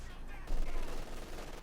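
Bazooka fire in the Company of Heroes 2 strategy game, a dull blast followed by a rumbling burst of battle noise, fairly quiet and muffled.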